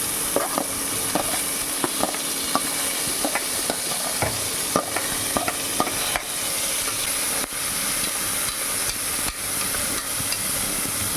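Onions frying for chicken salna, a steady sizzle in the pan broken by repeated sharp scrapes and taps of a spoon stirring, with no voices.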